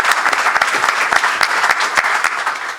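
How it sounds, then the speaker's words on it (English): Loud, close audience applause at an ODU and Sun Belt Conference press conference, a dense patter of clapping with sharp individual claps standing out, steady from start to finish. "This is where a good round of applause would be"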